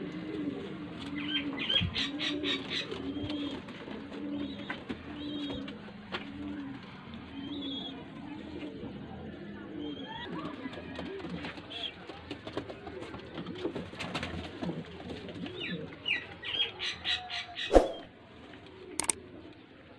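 Pigeons from a Faisalabad breeder pair coo in soft repeated low rolling phrases, with occasional wing flaps and a couple of sharp knocks near the end, while distant voices talk faintly in the background.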